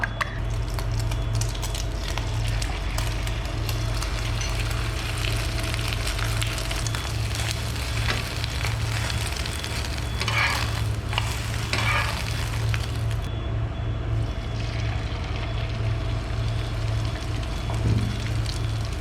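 Beaten eggs seasoned with black pepper and salt frying in hot oil, a continuous loud sizzle and crackle over a low steady hum, with a few brief scraping clicks partway through and no talk.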